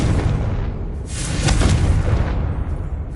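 Blast from the Confringo fire spell in the video game Hogwarts Legacy, a loud, deep, rumbling boom that swells and then fades over about three seconds, with no talking.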